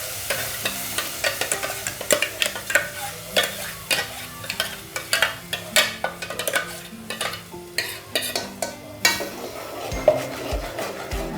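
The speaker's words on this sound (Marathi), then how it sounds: "आता हा आपण मसाला तेल सुटेपर्यंत चांगला परतून घेणार आहोत" Masala for a harbhara (chickpea) dish frying in oil over a low gas flame, stirred with a utensil: close, steady sizzling broken by repeated scraping strokes against the pan, with a few duller knocks near the end.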